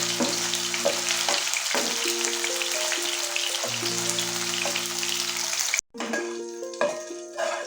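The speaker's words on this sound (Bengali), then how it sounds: "এগুলোকে একটু ভেজে নেব" Soybean chunks frying in hot oil over a high flame, a loud steady crackling sizzle with occasional stirring clinks and a brief cut partway through.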